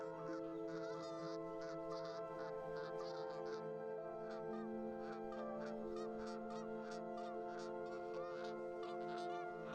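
Geese honk repeatedly in a dense, overlapping chorus of nasal calls over a steady background hum, moderately distant and continuous throughout, with goslings and adults foraging in an Ohio setting.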